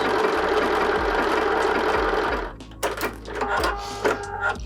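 A sewing machine runs continuously as it stitches circles around a wreath design on a robin cushion cover, a dense steady whir that breaks into shorter stop-start bursts near the end, close and loud.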